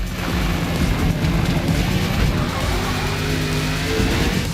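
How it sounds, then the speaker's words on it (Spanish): A GT1 race car in Forza Motorsport, a video game, loses traction and slides off the track edge, with a steady loud engine drone and tire noise running continuously throughout. "El GT1 pierde tracción y se va fuera del límite de la pista"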